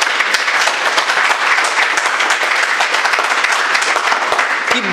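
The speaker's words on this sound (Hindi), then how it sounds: "ताली बजा दीजिए, बाद में बिल्कुल नहीं कहूँगा।" An audience at a kavi sammelan claps in a dense, sustained burst of applause, loud and close throughout, with no voices over it.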